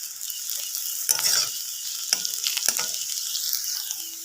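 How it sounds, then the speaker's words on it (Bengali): Onion and grated ginger fry in a pan, a steady close sizzle punctuated by a few scraping stirs of a spoon against the pan, with no talking. "দিয়ে একটু নেড়ে নেবো, নেড়ে চেড়ে নিচ্ছি। পেঁয়াজটা লালচে হয়ে আসছে।"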